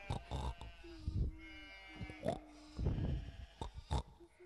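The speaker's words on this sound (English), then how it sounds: "And here's my favourite sheep" A sheep bleating on a farm, several short bleats spread across the moment, fairly faint and close, mixed with someone speaking in between.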